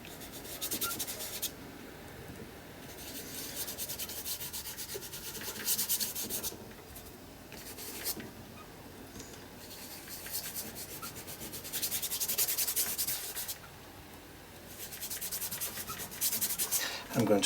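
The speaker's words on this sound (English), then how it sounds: "Just gently rubbing," Paint being gently rubbed by hand across the background of a double-page art journal spread, a soft continuous scuffing in long strokes that rise and fall, steady and close with no talking.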